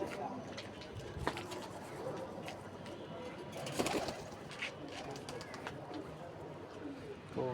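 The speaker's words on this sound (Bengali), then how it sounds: "এখানে কবুতর আছে একটা" A pigeon coos softly several times in a quiet indoor spot, its low rolling calls repeating at intervals while voices murmur faintly in the background.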